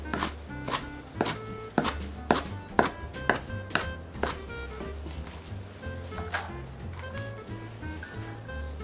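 A knife chops spinach steadily on a cutting board in a nursery school kitchen, a dozen or so crisp, close taps in an irregular rhythm, with quieter tapping continuing toward the end.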